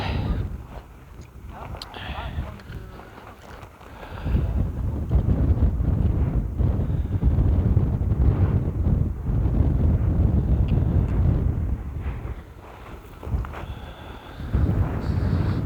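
Cold wind gusting across the foggy summit of Litlihrutur volcano, roaring steadily into the microphone as a loud, continuous rumble with brief lulls.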